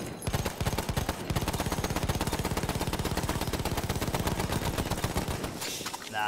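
Light machine gun firing in Battlefield 1, a long steady stream of rapid evenly spaced shots, loud and close, stopping abruptly near the end, with no talking over it.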